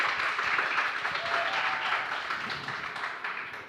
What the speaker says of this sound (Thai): ขอเสียงปรบมือให้กับลูกบัวนีโอและเบลชั้น 9 ค่ะ